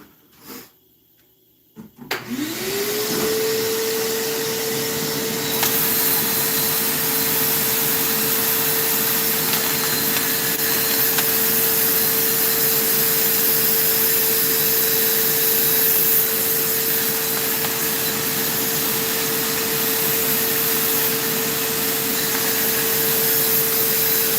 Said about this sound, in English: a holder for the shop vac hose